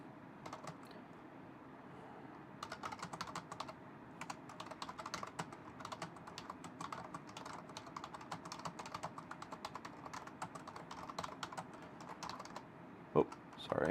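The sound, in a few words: typing on a computer keyboard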